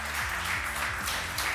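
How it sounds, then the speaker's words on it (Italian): Festival audience applauding a cooking brigade as it comes forward: steady, dense clapping heard over a low, rhythmic musical bass line that plays throughout. "Un bel applauso, eccoli qua."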